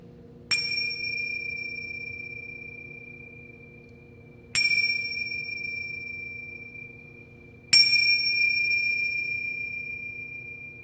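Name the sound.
meditation bell struck three times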